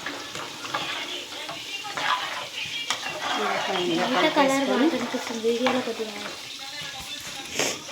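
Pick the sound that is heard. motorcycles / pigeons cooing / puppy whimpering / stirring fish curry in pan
stirring fish curry in pan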